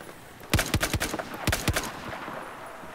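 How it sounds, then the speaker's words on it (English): Gunfire in the Battlefield 4 video game: a rapid cluster of loud, sharp shots, three close together and then two more after a short pause, each with a crisp crack over a low background hum. "Got enough of you shooting at me, sir."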